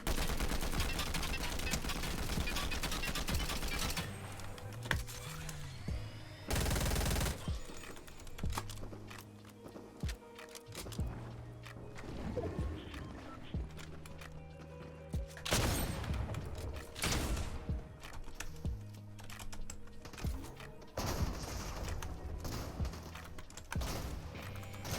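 Prime Shotgun blasts in the Fortnite video game come as sharp, loud booms spaced apart among rapid gunfire, game effects and clicky keyboard tapping.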